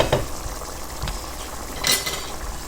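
Chicken drumstick curry cooking in a pan, a soft continuous sizzle with a few scraping stirs of a spoon against the pan, close and alone.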